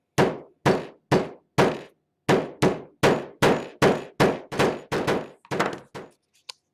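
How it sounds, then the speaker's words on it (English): A hammer's rounded end taps foam in a steady run of about fifteen dull thuds, evenly spaced and close, trailing off at the end. "You just kind of take the rounded end of your hammer,"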